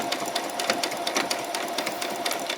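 A home sewing machine runs steadily through embellishment stitching on a butterfly and bee costume, its fast rhythmic clatter close and continuous with no voices.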